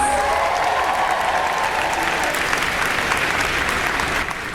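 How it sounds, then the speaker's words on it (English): Dense, sustained applause from a large audience at an anime convention panel, loud and steady throughout with a few faint cheers, easing slightly at the very end. "let's give her a big round of applause"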